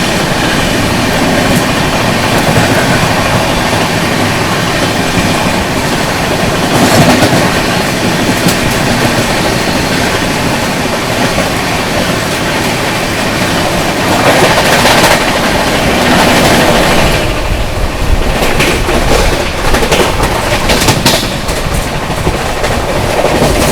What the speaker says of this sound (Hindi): Howrah Rajdhani overtaking coalfield.